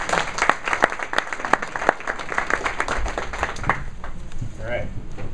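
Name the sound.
audience applause for sponsors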